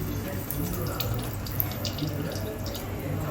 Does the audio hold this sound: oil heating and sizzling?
yes